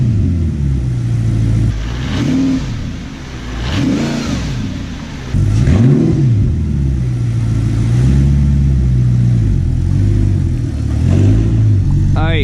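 An Audi R8 engine with a new upgraded exhaust, deep and throaty, idles and blips a few times, the revs swelling and settling back into a steady burble.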